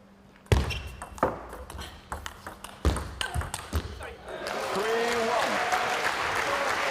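Crowd applause swells and holds steady after a table tennis rally in a women's singles match at a European tournament, following sharp ball pings and a commentator's voice.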